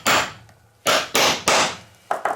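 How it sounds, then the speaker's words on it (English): Hammer strikes a nail set held over a rivet in a watch part, knocking it out with five sharp metallic blows in uneven rhythm, close and loud with brief ringing after each hit. "Hit it a few times with a hammer, and it comes right out."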